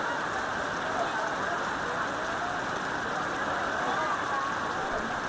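Monsoon downpour over a street market in Phnom Penh, Cambodia, a dense and constant roar of rain hammering nearby surfaces that stays even and loud for the whole stretch.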